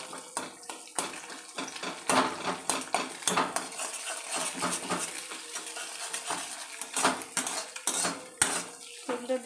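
Chow mein being tossed and mixed in a pan with metal utensils, with busy repeated scraping and clanking of metal on the pan over a soft sizzle.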